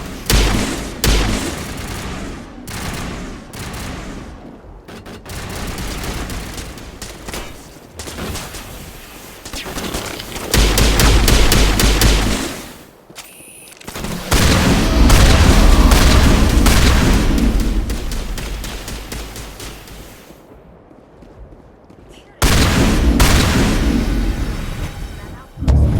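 Gunfire and explosions from the Mass Effect Legendary Edition battle on Virmire: bursts of rapid shots, booming blasts and heavy artillery-like thuds come thick and loud, with a few short pauses and background voices mixed under the combat.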